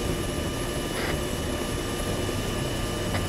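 Helicopter in a video game, a steady rotor and engine drone running continuously at moderate level with a broad, even wash of noise and no voices.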